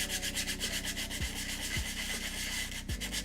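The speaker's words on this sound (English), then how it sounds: "the sanding is really loud" Loud, steady sanding of costume glove parts for a Mandalorian outfit, a continuous rough rubbing scrape close to the microphone with a few brief low thumps, no talking.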